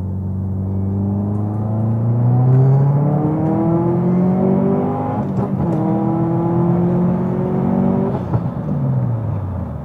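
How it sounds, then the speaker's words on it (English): A tuned Subaru STI accelerates hard up a highway on-ramp, its engine note climbing through the revs, dropping briefly at each gear change and rising again, loud and close throughout from inside the car. "Getting back on the on-ramp again, gonna do one more pull"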